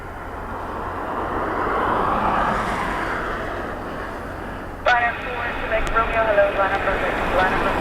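An airplane approaching runway 16 at Dublin Airport in gusty crosswind gives a steady, loud engine roar that swells and holds, with radio talk in the background.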